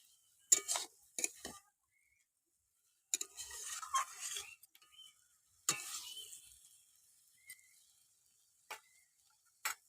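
Poi saag leaves being stirred and sautéed with mustard in a frying pan, giving bursts of sizzle and scraping stirs in irregular clusters separated by quiet gaps, with a few light ticking taps near the end.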